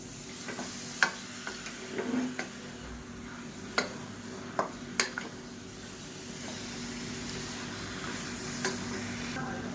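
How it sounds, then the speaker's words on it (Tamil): Chicken being sautéed with masala in a pan over medium heat for a village-style chicken curry: a constant hissing sizzle with occasional sharp spatula scrapes, close and steady, no voices. "இப்போ பாருங்கள் சிக்கன் சேர்த்து நல்லா வதக்கியாச்சு"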